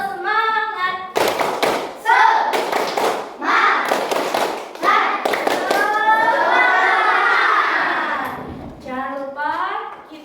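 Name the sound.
children doing rhythmic 'tepuk semangat' clapping chant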